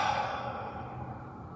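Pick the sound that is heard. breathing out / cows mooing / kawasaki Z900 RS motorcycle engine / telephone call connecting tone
breathing out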